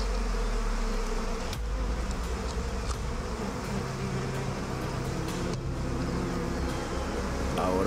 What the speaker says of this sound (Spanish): Ahora parece que están enviando abejas guardianas para ver qué está sucediendo.